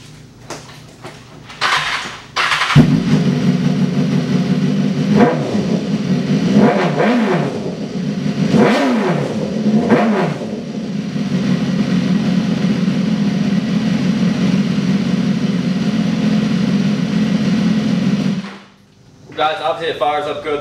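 A 2015 BMW S1000RR motorcycle engine fires up and settles into a loud steady idle, broken by several sharp throttle blips that rise and fall, before the engine cuts off near the end.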